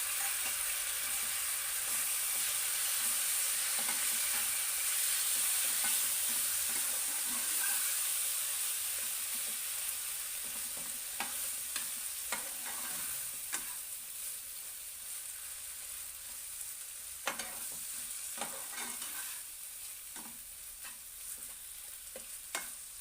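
Chopped eggplant stirred into a sizzling frying mixture for a spicy Maharashtrian dish, with a steady hiss of frying under intermittent scraping and clacking strokes of the spoon against the pan, close and alone.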